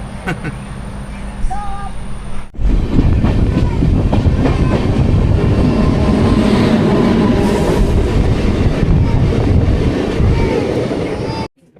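A passenger train in Kerala, near Ernakulam, runs along the tracks with a loud, steady rumble, rattle and wind roar. It starts abruptly after a short, quieter opening and continues without a break.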